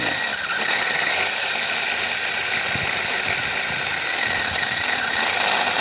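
A Bull BL 504 cordless mini chainsaw cuts slowly through hard wood in a garden, giving a continuous high buzzing whine with gritty chatter as the chain bites.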